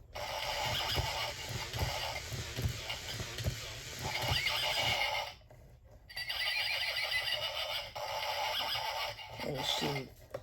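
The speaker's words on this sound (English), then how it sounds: "She's just gonna stand there and neigh." Tekno Pony robotic toy horse giving repeated electronic neighs and whinnies at close range, with mechanical whirring between calls and a short pause partway through.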